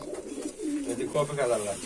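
Pigeons coo at a Bangladeshi pigeon farm, low soft burbling calls repeating close by, with a voice talking over them.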